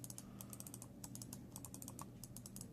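Rapid clicking of a Cooler Master Storm Devastator gaming mouse, a steady run of sharp, close clicks over a low hum, with no voices.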